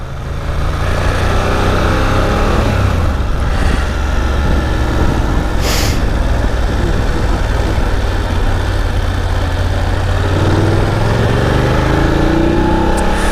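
BMW F850 GS motorcycle engine running in second gear below 3000 rpm, lugging with a steady low rumble that stays loud and continuous throughout, with no speech over it.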